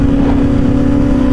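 A superbike in a drag race at over 300 km/h, held at full throttle in full power mode on slick tyres with traction control off, gives a brief, loud, steady high-revving engine drone.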